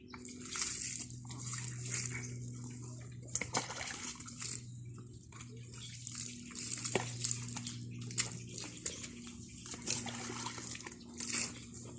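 Water splashes and trickles over a newly arrived buck goat as it is bathed, in irregular pours and drips close by, with people talking quietly throughout.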